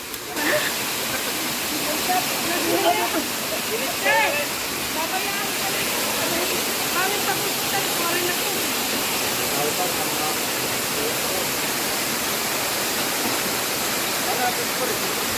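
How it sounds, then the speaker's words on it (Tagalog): Munting Falls roars as a steady, loud broadband rush of falling water, with people talking intermittently over it throughout. "Papuntang Munting Falls namin dito"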